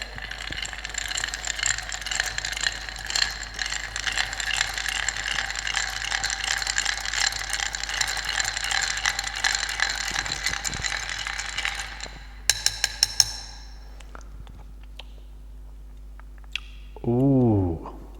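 Cocktail stirred with ice in a mixing glass for about twelve seconds, a steady close rattling swirl of cubes against glass, followed by a few sharp clinks and quiet.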